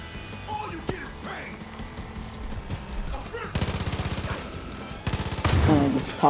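Gunfire in the Far Cry 5 video game comes in bursts of rapid shots over a busy game soundscape, growing louder toward the end.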